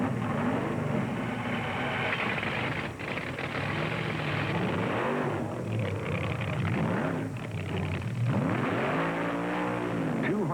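A 1971 drag racing dragster engine fires and revs loudly and continuously at a drag strip, with rising and falling engine tones and voices speaking faintly underneath.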